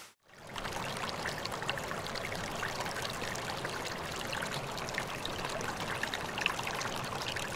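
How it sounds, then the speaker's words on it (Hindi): Irrigation water flows steadily into a rice field with no standing water yet, a continuous soft trickling and pouring wash that stays even and fairly quiet throughout, with no voices. "अभी हम लोग उसमें पानी इरिगेशन कर रहे हैं ताकि उसमें 1 इंच का पानी आ जाए।"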